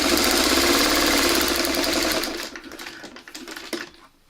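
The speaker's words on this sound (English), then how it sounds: "And we want to sew these open." Close, loud sewing machine stitching a seam on a mini quilt block at a fine stitch length, a fast steady run for about two seconds that then slows and stops, leaving scattered light handling noises.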